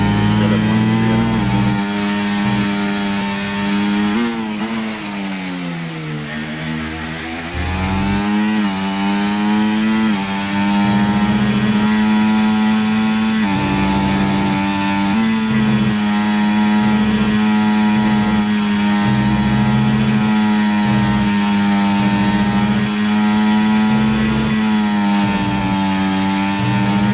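F1 24 race car engine in a video game, racing at the Qatar circuit: a loud, continuous high-pitched engine whine with rising and falling revs through gear changes, steady throughout with no talk.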